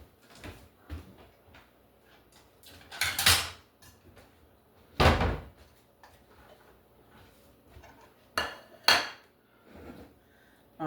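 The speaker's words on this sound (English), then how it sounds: "Let me get a little dish here." A small dish is taken out amid scattered clinks and knocks of kitchenware, with several louder clatters spread irregularly through the stretch and quiet pauses between them.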